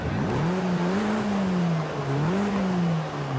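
A steady MG6 XPower car engine drone in Forza Horizon 5 rises and dips in pitch as it revs, continuous and fairly loud over a constant rushing background.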